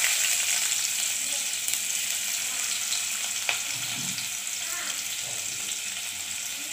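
Onion sizzles in hot oil with cumin and mustard seeds while being sautéed for a cauliflower dish, a steady close frying hiss with a few soft scraping stirs and faint background sounds.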